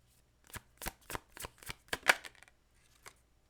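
Tarot cards shuffled for a reading, a series of about eight quick riffling, slapping bursts close by, then a short pause and one final tap.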